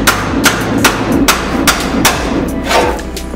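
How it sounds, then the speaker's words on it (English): A hammer drives a sharp chisel through spot welds on a 1967 Mustang fender apron. Steady metallic blows land close and loud, roughly two or three per second, in an even rhythm. "Now I'm gonna chisel a couple areas right here because it looks like I didn't get it dead on either."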